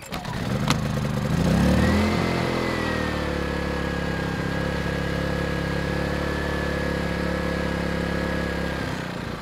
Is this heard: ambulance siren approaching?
no